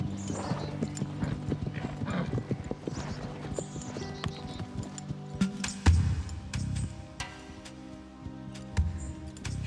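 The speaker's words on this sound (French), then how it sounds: "voilà Diablo, avec un autre cheval" Hooves of two horses, the stallion Diablo and another horse, clip-clop in an irregular trotting rhythm at moderate distance, with occasional louder thuds and faint background sounds.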